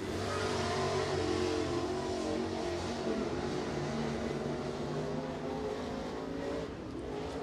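A crate race car takes a qualifying lap on the dirt speedway at Crossville, its engine revving loudly and steadily at high pitch, then easing slightly as it moves along.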